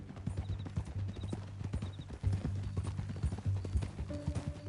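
Horse hooves clip-clop at a steady walking rhythm in the video game Red Dead Redemption 2, close and continuous over a low ambient hum, with faint tonal sounds near the end.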